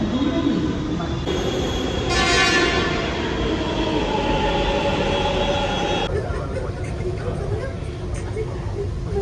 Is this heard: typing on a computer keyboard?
no